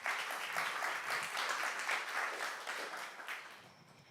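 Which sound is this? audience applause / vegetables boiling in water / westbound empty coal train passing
audience applause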